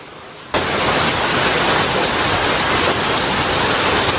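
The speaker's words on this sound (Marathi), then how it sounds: "निघायच्या वेळेस पाऊस बघा किती झाला" Heavy rain starting abruptly and then pouring in a loud, dense, unbroken roar close by, with no voices over it.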